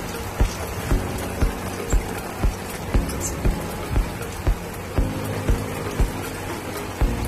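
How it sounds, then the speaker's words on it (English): Rain pattering steadily on a rooftop tent, with a dense hiss of drops and soft thuds at a regular pace, close and even throughout with no talking. "It's raining outside."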